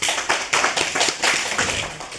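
An audience at a Sufi dargah committee meeting claps in honour of a revered woman, a quick, fairly close patter of many hands in uneven bursts that carries on briefly without speech.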